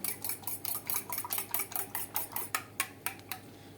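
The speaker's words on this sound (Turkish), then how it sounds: "Bu şekilde şöyle birazcık da süt koyuyorum. Yarım çay bardağının hepsini koymadım bile. Güzelce bunu bir çırpalım." A whisk clatters rapidly against a bowl as eggs and milk are beaten together, about a dozen crisp, even strokes in a quick steady rhythm, close and clear, with no voices.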